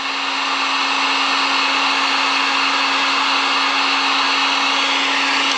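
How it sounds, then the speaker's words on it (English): A heat gun running on high blows a loud, steady rushing stream of air with a constant humming drone, close up and unbroken throughout. "I think a heat gun does the best job. So all you do, kick it on high, run it for a second."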